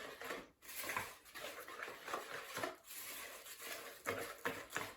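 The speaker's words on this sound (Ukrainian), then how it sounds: "все ретельно змішуємо." Pancake batter with sifted flour being mixed in a bowl: faint, quick repeated scraping and sloshing strokes of a whisk or spoon, close by and with no talk.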